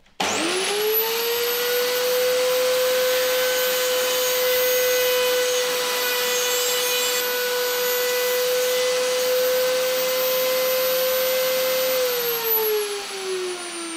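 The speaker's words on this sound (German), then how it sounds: "das ist diese Maschine. Die macht uns jetzt Phasen an das Teil." A machine chamfering a model-helicopter gearbox part spins up with a rising whine, holds a loud steady high-pitched drone while cutting, then winds down at the end.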